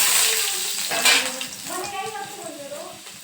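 Okra (bhindi) fries in a pan, a close, loud sizzle that fades over a few seconds, with a clink of utensil against the pan and a voice speaking partway through.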